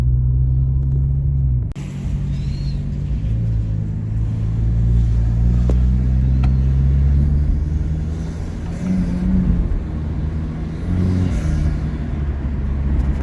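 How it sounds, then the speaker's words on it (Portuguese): Steady low rumble of a car's interior while driving over speed bumps, with a sharp jolt near the start and occasional thumps and creaks. "passando em quebra-mola, ouvindo o barulho interno do carro"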